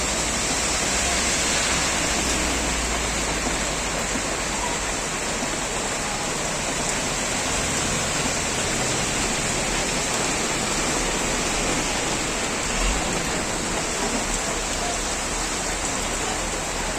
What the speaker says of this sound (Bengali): এই মুহূর্তে পঞ্চগড়ে অনেক জোরে বৃষ্টি হচ্ছে